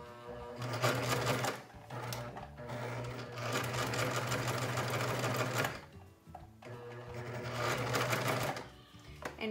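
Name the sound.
sewing machine stitching ribbon into a surgical cap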